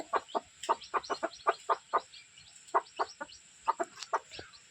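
A hen clucks repeatedly in short, rhythmic bursts close by, with soft high cheeps from chicks and quiet background in between.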